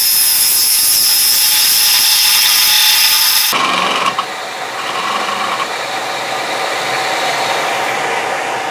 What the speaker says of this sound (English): With a smaller gouge I can get in there now.